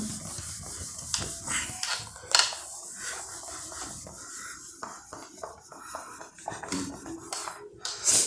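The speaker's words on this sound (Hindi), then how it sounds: "इसको मैं यहाँ से रब कर देता हूँ।" A board being wiped clean during a lesson gives close, irregular rubbing and scuffing strokes with small taps and clatters, with no talking over them.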